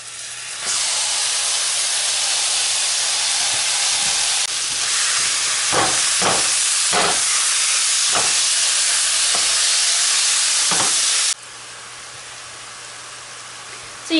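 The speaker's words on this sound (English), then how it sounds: "Now I'm going to add in my meat mix." Meat mix frying in a pan with browned onions and turmeric gives a steady, loud broadband sizzle with a few sharp crackles and pops midway; the hiss drops slightly near the end.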